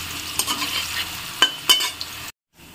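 Cabbage ghonto frying in a pan, with several scraping stirs of a utensil over a soft sizzle, close and fairly quiet, ending in a brief silence.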